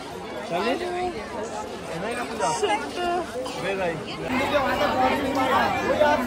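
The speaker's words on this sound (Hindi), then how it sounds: "यहाँ पर पूरे रास्ते भर मेला लगा हुआ है और देखो कितनी ज़्यादा भीड़ है" Busy crowd bustle along a fair route leading to a temple in Etawah, Uttar Pradesh, a steady babble of many voices and chatter, moderately close and continuous, with a nearby speaker talking over it.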